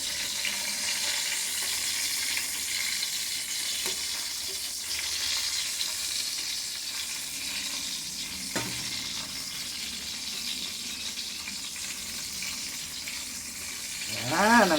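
Milkfish and round scad fish sizzling steadily in hot oil in a home kitchen in Houston, Texas, with a continuous close crackle throughout and a faint clatter near the end.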